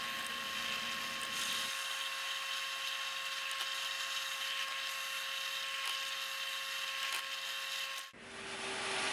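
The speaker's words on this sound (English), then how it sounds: "We're going to be using a 3/16 drill bit" A power drill with a 3/16-inch bit whines steadily at a constant pitch for several seconds, then stops abruptly.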